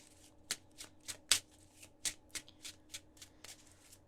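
A tarot card deck being shuffled by hand: a quick series of crisp riffling flicks and soft slaps in an irregular rhythm, close and fairly quiet, with no talking.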